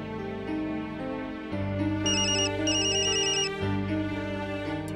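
A telephone ringtone plays as an unanswered call, a steady melodic ring repeating in bursts with a brighter chiming phrase in the middle, loud and close with no voices.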